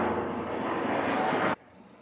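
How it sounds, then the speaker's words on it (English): Airplane passing overhead near a flight path, a loud, broad engine roar that holds steady and then cuts off abruptly, leaving quiet background. "I live right next to a flight path, so you get planes flying all over and pretty much all hours of the day."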